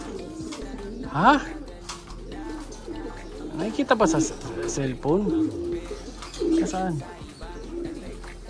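A ringed male pigeon hidden in a tree gives soft, low cooing calls, heard faintly under close conversation in Tagalog.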